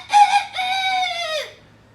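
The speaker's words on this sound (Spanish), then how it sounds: "sonó el gallo, cantó el gallo." A single rooster crowing close by and loud, a short opening note and then a long drawn-out call that falls away into quiet.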